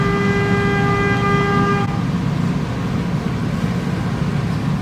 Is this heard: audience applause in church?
no